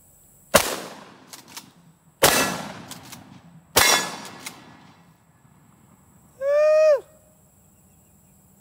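Three loud, sharp shotgun blasts fire birdshot, buckshot and slug into a backpack, spaced a second or two apart and each ringing briefly before fading, followed by a short moo-like animal call.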